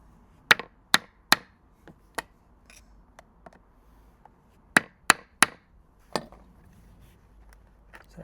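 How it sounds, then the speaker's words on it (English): A hammer strikes a piece of wood set against a badly rusted brass button to knock it out, making sharp, close blows in two quick clusters of three, with scattered lighter taps between. "going to hammer that and that should pop out"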